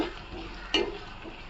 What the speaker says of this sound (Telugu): ఆనియన్స్ అనేవి వేగుతున్నాయి.